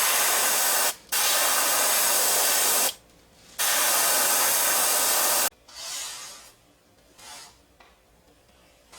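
Airbrush spraying transparent paint through a fly swatter mesh pattern onto a chrome fishing lure, three loud close hissing bursts separated by short gaps, then softer intermittent puffs.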